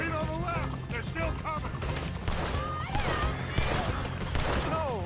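Rapid bursts of gunfire from a Red Dead Redemption 2 shootout crackle continuously over game music, with people talking excitedly throughout.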